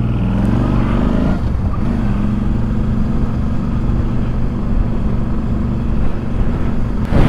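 A motorcycle heading onto a UK motorway, its engine droning loudly and steadily up close with a low hum and a shift in pitch as it gathers speed, heavy wind rush over it throughout.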